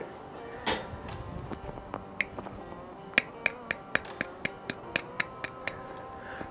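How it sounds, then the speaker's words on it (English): Crispy grilled chicken skin from a pellet grill, tapped about a dozen times in a steady, fairly quick rhythm of sharp, crisp clicks, close by and with no talk. "That's a crispy skin right there,"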